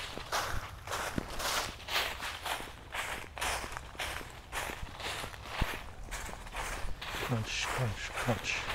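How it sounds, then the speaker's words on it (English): Footsteps crunching along a woodland trail near Rock Creek, a steady walking rhythm of close, gritty crunches throughout, with faint voices in the background. "Crunch, crunch, crunch."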